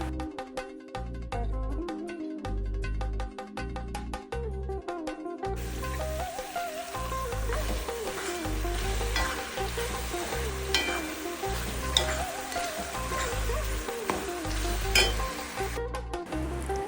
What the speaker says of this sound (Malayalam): ഇനി ഇതിലേക്ക് നമ്മൾ നേരത്തെ വറുത്ത് വെച്ച നട്ട്സ് ഉണ്ടല്ലോ